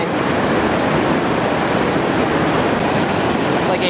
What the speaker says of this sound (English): slamming through some great waves down here at the top of Millers Folly Rapid